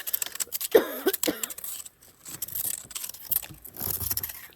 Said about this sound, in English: I got a slight cough.